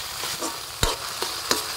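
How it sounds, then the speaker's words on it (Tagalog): Corned beef sautéed in a pan for spaghetti sauce, with a short burst of close frying sizzle and two or three sharp stirring scrapes of a spoon. "Igisa na natin yung pangmalakasan na corn beef."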